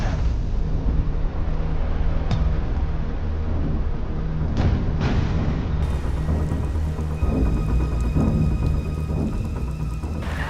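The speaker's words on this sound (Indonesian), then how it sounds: "Romantis banget hujan-hujanan." Heavy rain pours down as a steady, dense wash of noise close by. A few faint sharp cracks sound within it, and the background shifts partway through.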